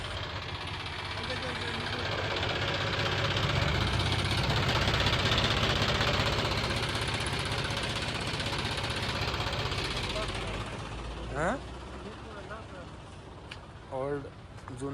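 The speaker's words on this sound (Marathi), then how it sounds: "तर बघू शकताय दोन्ही ओल्ड ट्रॅक्टर आहे, म्हणजे जुने काळ्या पट्ट्याचे." Two old tractors with engines running as they strain up a slope, a steady, loud, close diesel throb that holds for some time before easing off, with short sharp noises near the end.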